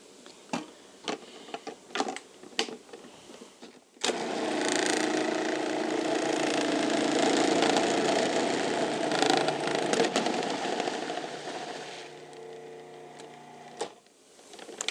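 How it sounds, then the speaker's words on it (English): A food processor shreds cheese for a Finnish meatloaf in sour cream pastry: after a few clicks, a loud, steady motor whir with grinding runs about eight seconds, then winds down and stops. "we're just going to shred that, again using our wonderful food processor here"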